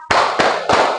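Three loud, evenly spaced group claps from standing schoolchildren in a fourth-grade classroom, keeping the beat of a clapping chant, close and crisp with no talking between them.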